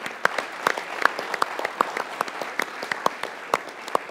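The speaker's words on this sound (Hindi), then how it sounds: "विराट कोहली के लिए एक बार तालियां होनी चाहिए।" Applause for Virat Kohli during talk about his T20 retirement after the 2024 World Cup final, a steady patter of many clapping hands, fairly faint and even, with sharper individual claps standing out.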